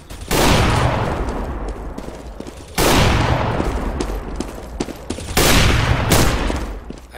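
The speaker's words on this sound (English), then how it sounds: "Fucking hate getting shot by these guys." Gunfire in CS:GO comes as three long, loud sprays of automatic shots, each burst sustained for a couple of seconds with brief pauses between them.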